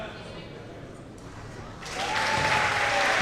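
Loud basketball crowd at a boys' high school game between Creed and Old Saybrook, quieter murmur at first, then a sudden swell of cheering and applause after a foul shot that holds steady to the end, with a whistle tone mid-swell.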